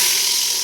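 Onion frying in oil over medium heat for veg dum biryani gives a close, steady, dense sizzle that holds evenly through a very short stretch.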